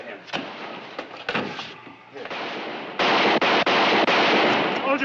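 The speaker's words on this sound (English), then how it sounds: "Tell them to stop shooting." Gunfire erupts in a Western drama scene, scattered shots under voices at first, then a loud dense volley of rapid shots dominating the second half.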